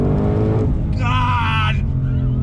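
Ford Shelby GT350R Heritage Edition engine in manual shift mode with magnesium paddles, a loud continuous roar with a rising higher-pitched surge through the middle as it accelerates, then settling back.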